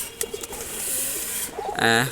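Homing pigeons kept as a breeding pair for sale, giving soft low cooing close by under a voice talking, with a brief hiss of background noise.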